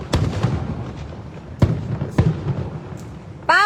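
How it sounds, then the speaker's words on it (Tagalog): Fireworks bursting over the East River in New York City, several sharp booming cracks spaced a few seconds apart, with a whistling rocket at the end and faint crowd murmur between the blasts. "May fireworks ngayon."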